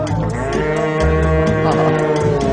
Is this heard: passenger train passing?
no